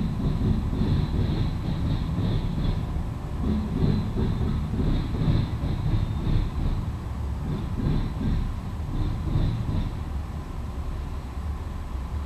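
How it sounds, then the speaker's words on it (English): A Norfolk Southern northbound mixed freight train rolls past in Marion, Ohio, with a steady rumble and a rhythmic clatter of wheels over rail joints, close and continuous for the whole stretch. "the Norfolk Southern northbound mixed freight train in this train video"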